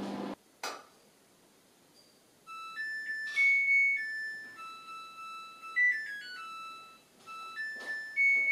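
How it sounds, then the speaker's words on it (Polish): A washing machine's end-of-cycle signal plays a bright electronic whistled melody of short tonal beeps in several phrases, preceded by a couple of sharp knocks in a quiet room. "Jak sami słyszeliście, pralka odgwizdała właśnie koniec."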